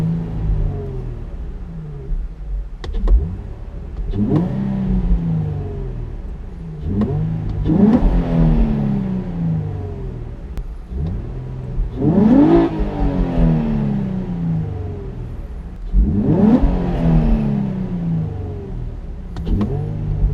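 A car engine revving repeatedly, recorded on a GoPro, rising and falling in roughly four strong pulls with low rumble between, loud and near with no talk.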